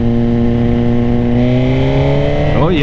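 A 2024 Suzuki GSX-R 1000 sport bike's inline engine revs up under sharp throttle in B mode, a loud close steady drone rising in pitch toward the end, with no talking.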